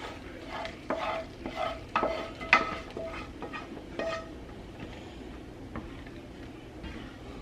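Soup being stirred after a milk mixture goes in, with soft scraping and clinks of a spoon against the pot, small splashes and a low bubbling simmer underneath, close and moderately quiet.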